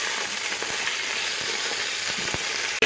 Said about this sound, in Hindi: अब हम इसे भून लेंगे।